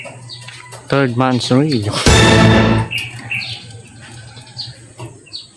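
Pigeons are released outdoors, with bursts of wing flapping and chirping birds amid close voices, a loud rushing flutter in the middle, then quieter scattered chirps as people keep talking.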